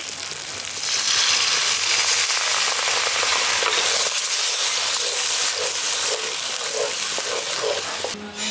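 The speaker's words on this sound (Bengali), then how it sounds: "এবার এর মধ্যে আমি জল দিয়ে দিচ্ছি।" Water poured into masala that has been fried down for a Bengali okra curry with poppy seed and mustard paste: a loud, steady hiss and roar of sizzling fills the clip close up, with faint stirring.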